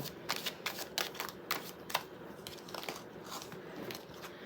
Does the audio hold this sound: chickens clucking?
no